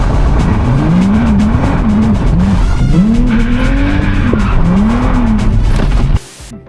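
A turbocharged Nissan 370Z NISMO with a VQ engine drifts, its roaring engine wavering up and down over continuous tire squeal and skidding for about six seconds, loud and close before cutting off abruptly.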